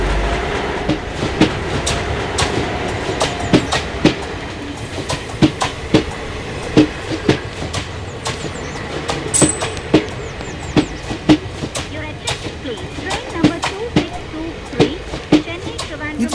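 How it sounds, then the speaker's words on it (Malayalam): Howrah Express passenger train pulling into a railway station, its wheels clacking rhythmically over rail joints throughout, with steady rumble and people talking in the background. "ട്രെയിൻ വന്നു."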